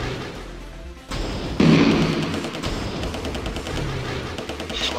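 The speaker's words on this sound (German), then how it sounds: "zwei Schüsse. Aua." Gunfire in the horror video game Die Bücher Luzifers: a sharp burst of loud shots over dense game noise, followed by a sustained rumbling crash texture.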